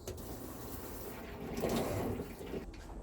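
Water runs from a tap in a self-built Iveco campervan conversion, a steady splashing stream close by that swells briefly midway before settling again.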